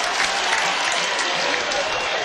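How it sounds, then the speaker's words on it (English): A college football crowd applauds steadily as the defense leaves the field, a dense wash of clapping that holds at an even level throughout, with voices mixed into the noise. "the defense gets a pretty hearty round of applause as it exits the field"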